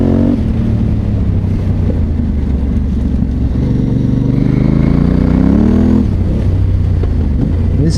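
Motorcycle with a smooth multi-cylinder engine, not a single, ridden off-road: a loud, steady engine drone throughout, rising briefly in pitch as it revs, with wind rush and no talk.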